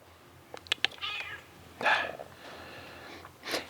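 A cat meows several times up close indoors, with short chirpy calls followed by two longer, louder meows against a quiet background.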